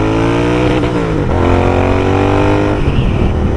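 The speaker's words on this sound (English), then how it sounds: "firing up an engine," A Royal Enfield Continental GT 650 motorcycle engine revs loud and close, its deep harmonic tone rising and falling through two throttle blips with a steady idle rumble underneath, no voices.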